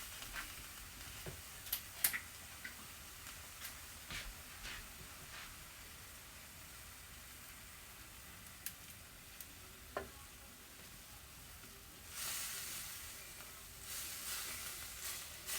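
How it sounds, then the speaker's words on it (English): Cream poured into a hot pan of chicken, spinach and sun-dried tomato pasta sizzles quietly, with occasional stirring clicks and a louder surge of frying hiss toward the end. "And now I'm going to add the cream."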